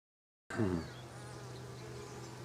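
Honey bees buzz at a beehive, a steady close hum that starts abruptly and holds at low volume, with a brief louder wing drone near the start.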